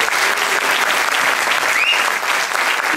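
Applause from an audience at a piano concert in a school setting, a continuous dense wash of clapping that stays fairly loud and even throughout.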